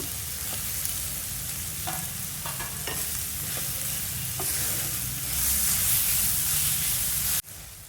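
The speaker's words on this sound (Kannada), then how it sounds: "ಈ ತುರ್ಕೊಂಡಿರೋ ಕುಂಬಳಕಾಯಿನ ಬಾಂಡ್ಲಿಗೆ ಹಾಕಿ ತುರ್ಕೊಂಡು" Grated pumpkin sizzles in a hot pan for pumpkin halwa, with soft stirring scrapes, a steady frying hiss that swells louder toward the end.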